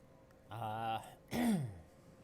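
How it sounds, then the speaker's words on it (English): Two short throat-clearing sounds from one person who is unwell, close and fairly quiet, separated by a brief pause. "Sorry for clearing my throat."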